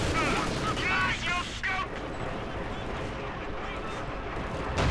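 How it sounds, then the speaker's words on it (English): Katyusha rocket artillery fires a barrage in the World War II strategy game Company of Heroes 2, heard as a dense, rumbling stream of launches and distant blasts, with a voice talking over it. "Another victorious Katyusha barrage going up there from Nateums space."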